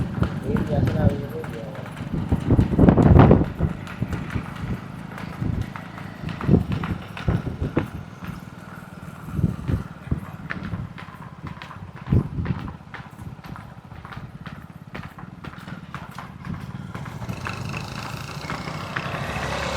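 A mare trots along a road, her hooves clip-clopping in a steady rhythm, with people talking and cheering over the hoofbeats and a passing engine now and then.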